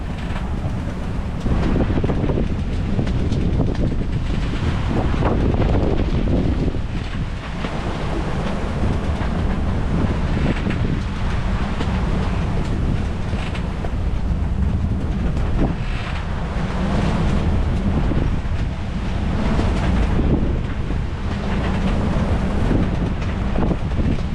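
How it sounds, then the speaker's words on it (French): A boat rocks on a choppy Caribbean sea between the Saintes and Dominica, with constant loud wind buffeting and rushing wave noise throughout, and no voices. "Ça a même éclaboussé de devant jusqu'en haut du bateau là, avec les vagues."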